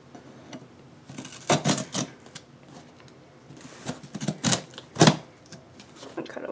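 A kitchen-type knife cuts open a package of emergency lights, giving a series of sharp, close scraping and slicing bursts in irregular clusters, with quieter rustling between strokes.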